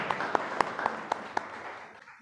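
An audience applauding at a Hindi Day celebration event, with a wash of clapping and a few sharper, regularly spaced claps standing out, fading toward the end.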